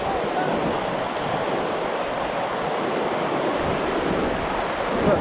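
River current rushes over rapids on the Suna River in early June, a steady, close, broadband roar of churning water with no speech.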